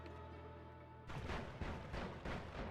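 In the game Noita, the Summon Tentacle with Timer spell fires after a brief tonal hum, then sets off a series of punchy, explosive bursts repeating roughly every half second, loud and close.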